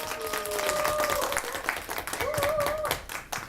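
A lecture audience claps warmly to welcome a guest speaker, a steady dense applause held for several seconds with some crowd noise mixed in.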